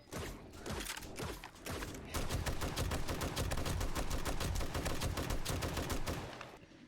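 Rapid video game gunfire rattles in dense bursts at a shooting gallery, sharp and nearly continuous for several seconds before tailing off.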